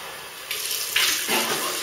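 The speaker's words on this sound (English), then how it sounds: "So I'll just rinse off." Tap water running into a sink to rinse off after shaving with a Wilkinson Sword Classic razor, a steady close hiss of flowing water that swells and splashes as hands move under the stream.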